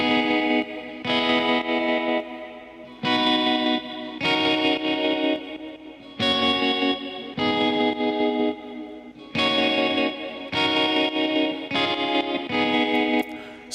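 A layered electronic-pop guitar part, processed into a wide, chorused, pad-like wash with reverb, plays repeating chord phrases in steady bursts, loud and alone.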